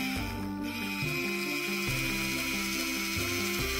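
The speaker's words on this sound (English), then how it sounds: "Okay, so let's drill first, and we're gonna remove his tooth." A small electric toy dentist drill from a Play-Doh dentist kit whirs steadily with a high buzzing tone, its motor stepping in pitch several times as it runs.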